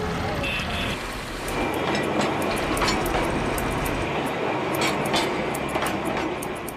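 A Darjeeling Himalayan Railway train in India rumbles steadily along the track with rhythmic clicking and rattling, a continuous loud mechanical roar throughout.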